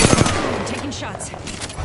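Rapid bursts of automatic gunfire in the battle royale game Apex Legends, loud and close, with dense overlapping shots and game sounds throughout.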